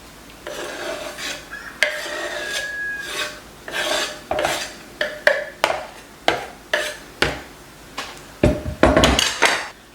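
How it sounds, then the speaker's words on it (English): Chopped zucchini scraped and dropped back into a bowl, giving a series of short, sharp clinks and scrapes of utensil against dish in an irregular rhythm, close and fairly loud, with no talking. "So I'm going to take this chopped up zucchini now, I'm going to put it back in my bowl"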